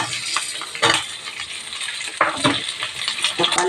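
Onions and tomatoes sautéing in a pan for anchovy fish curry, a loud close sizzle broken by repeated spatula scrapes and stirring strokes at an uneven rhythm.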